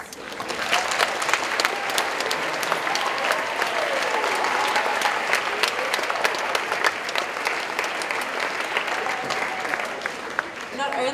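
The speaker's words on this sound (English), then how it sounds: "can all our athletes stand up and give them a massive round of applause?" A school assembly crowd applauds its athletes, sustained loud clapping filling the hall with cheering voices mixed in and a voice speaking over parts of it.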